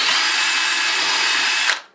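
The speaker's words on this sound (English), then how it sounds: "So I'm just putting a 5mm drill bit into the drill, and that's what we'll drill here." A power drill fitted with a 5mm bit bores through MDF, a loud steady whine from close by that cuts off sharply and winds down at the end.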